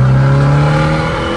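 Abarth with a stage 2+ tune and TBF intake, a convertible, revving loud and close with a strong steady engine drone and intake roar, pitch holding then easing slightly toward the end.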